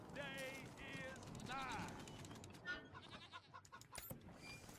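A mountain goat in the video game Wasteland 3 gives several wavering bleats in quick succession, fairly close, followed by softer clicks and game sounds, with a person talking over it.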